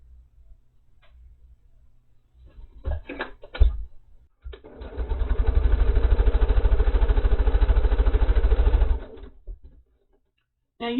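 Sewing machine piecing quilt blocks together: a few scattered clicks and handling sounds, then a steady, close run of rapid stitching for about four seconds that stops abruptly.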